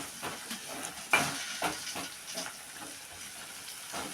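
Chicken frying in a pan at home, a quiet sizzle broken by soft, irregular stirring scrapes and one sharper knock, with no talking.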